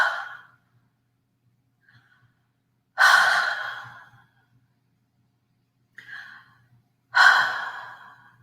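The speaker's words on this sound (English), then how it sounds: "I want you to breathe some breaths on it." Slow, deliberate breaths blown out one after another: two strong exhalations plus fainter ones, close and clear against quiet, each a soft airy whoosh that fades out.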